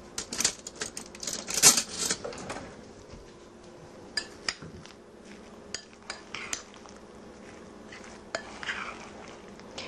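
Half a banana is stirred into about a pound of fruit in a bowl, giving close, irregular spoon clinks and soft scraping against the dish, with no talking.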